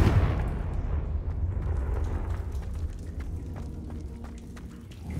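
A Confringo fire spell explosion in Hogwarts Legacy: a deep booming burst up front that rolls into a rumbling tail of crackling debris and sharp little pops, fairly loud with no voices.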